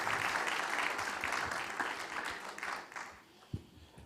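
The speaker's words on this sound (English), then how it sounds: "Can we please welcome Nilamadhava Prabhu with a very generous round of applause" An audience applauds to welcome a speaker at a Gita Jayanti gathering, a dense wash of clapping that is moderately faint and slowly fades, ending with a single louder thump.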